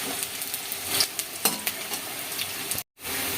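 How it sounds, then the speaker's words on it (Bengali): Onion being stirred and fried in a pan, a continuous close sizzle with several spatula scrapes and clinks against the pan, then a brief cut to silence before the sizzling resumes. "এবার পেঁয়াজটাকে একটু নেড়ে নিই।"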